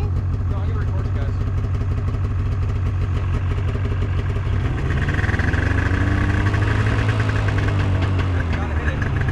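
A snowmachine engine idles at close range, then revs higher as the throttle opens without the machine moving, and the rising whine holds steady while people talk nearby.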